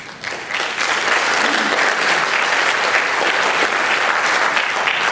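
Audience applause at a 48th Assembly District candidate forum, a dense, loud wash of many hands clapping that swells quickly and holds steady for about five seconds.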